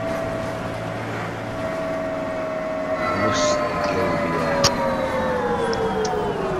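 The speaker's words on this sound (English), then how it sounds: "I logged on, the first thing come on was an ambulance." An ambulance siren in the OMSI 2 bus driving simulator game: a steady tone holds and then slowly drops in pitch over a rumbling engine, with a couple of brief clicks near the end.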